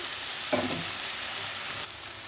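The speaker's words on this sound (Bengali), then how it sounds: "আমি মাশরুম আর ফুলকপির সঙ্গে মশলাটাকে ভালো করে কষিয়ে নিয়েছি" Mushrooms and cauliflower sautéing with spices in a pan, a steady broadband sizzle with a brief louder stir near the start, then the frying dropping slightly quieter toward the end.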